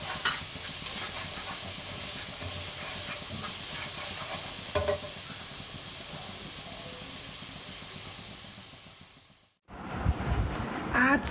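Grated ginger and chopped green chilies sizzle and hiss steadily in a pan for about ten seconds with a few stirring clicks, then a brief cut into louder frying and clatter.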